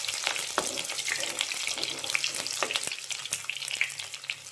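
Chopped garlic and ginger frying in oil in a pan for a fish curry, a constant soft sizzle with light intermittent stirring clicks, close and fairly quiet.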